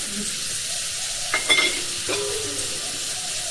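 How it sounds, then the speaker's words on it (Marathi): Drumstick curry being stirred with red chili powder, turmeric and salt over a wood-fired stove, giving brief scraping stir sounds and a soft sizzle beneath steady background hiss. "आता हे मस्त परत सगळं एकजीव करून घेतले"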